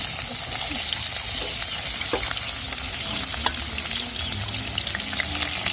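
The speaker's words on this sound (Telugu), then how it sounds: "ఫ్రెండ్స్ ఫస్ట్ అయితే ఉల్లిపాయలు వేసుకుందాం ఉల్లిపాయలు పచ్చిమిరపకాయలు" Onions and green chilies fry in hot oil in an outdoor pan, giving a steady, close sizzle with occasional stirring scrapes throughout.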